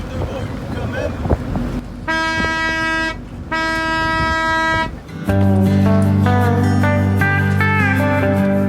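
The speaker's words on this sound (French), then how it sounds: "Mais des coups de corne de brume quand même." Two long, steady foghorn blasts from a lighthouse on the coast at Fécamp sound over rumbling wind noise, followed by a deeper, louder sustained horn tone that holds to the end.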